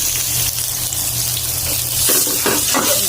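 Ginger and garlic sizzle in oil in a pan, a loud continuous hiss with a few stirring scrapes and no talk.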